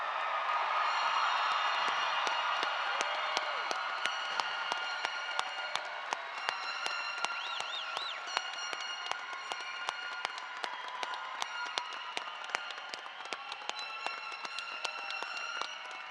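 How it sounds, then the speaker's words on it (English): A high school graduation crowd in a large venue applauds and cheers at length, a dense wash of clapping with scattered whoops and shouts, sustained and fairly loud throughout. "let's cheer wildly for this class of 2025."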